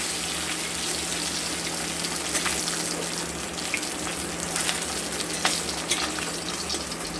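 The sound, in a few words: katla fish frying in oil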